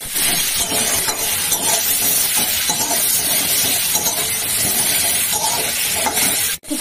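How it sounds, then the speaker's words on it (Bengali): Cumin seeds fry in hot oil for a Bengali coconut and pointed gourd dish, a loud, steady, dense sizzle and crackle that continues for the whole stretch, with faint stirring clinks. "জিরে, ব্রাউন করে ভেজে নেব"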